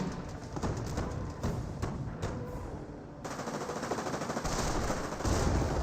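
Machine gun fire crackles in the World War II strategy game Company of Heroes 1: dense, continuous rattling bursts with a busy battlefield din beneath, loud and sustained throughout with no speech.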